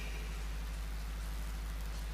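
Steady rain falls through an outdoor Islamic religious gathering in Indonesia, a constant close hiss of drops on surfaces with a low hum underneath and no talk.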